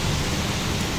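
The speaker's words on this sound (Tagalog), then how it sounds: "Ito yung first na malakas na ulan ngayong taon" Heavy rain pours in a dense, continuous hiss that stays loud and even for the whole short stretch, with no voices.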